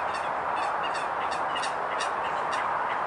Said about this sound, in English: I don't know if you can hear all the birds, but there's so many coots on here, constantly arguing.